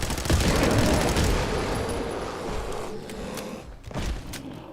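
Gunfire in Fallout 4 as enemies are shot, with a loud dense burst of rapid shots and booming impacts that thins into scattered cracks and thuds over a few seconds.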